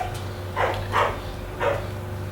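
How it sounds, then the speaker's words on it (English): Dog barking three times indoors, separate muffled barks spaced about half a second apart, moderately loud against a low background hum. "My dog's barking."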